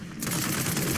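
Rapid automatic gunfire in Paladins, a dense, sustained burst of repeated shots that starts abruptly and stays loud and close.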